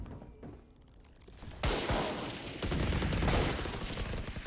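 Bursts of gunfire in the shooter game Valorant, with a sharp shot near 1.6 s and a dense, loud burst from about 2.6 s onward, heard without any talk.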